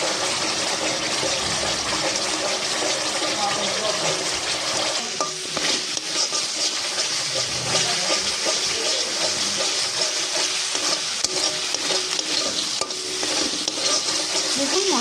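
Spice paste frying in hot oil with salt and sugar, a steady broadband sizzle running throughout with scraping stir strokes of a utensil in the pan, close and continuous, no voices.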